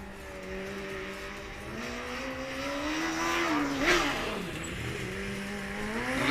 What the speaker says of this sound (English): we can really hear the car 11 from the other side of the track, going to the limit